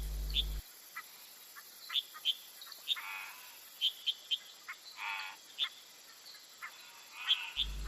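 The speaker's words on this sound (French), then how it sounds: "départ pour la chasse aux grenouilles" Frogs calling in the night around a lodge in Costa Rica give sharp, high chirps, scattered and repeated, with a few softer raspy croaks mixed in, moderately close.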